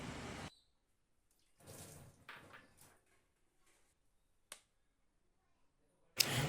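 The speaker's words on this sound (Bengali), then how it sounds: "এখন হাতটা ধুয়ে" Hands rinsed under a running kitchen tap while cooking, short bursts of gushing water separated by silence, a brief splash midway and a louder flow at the end, close and alone.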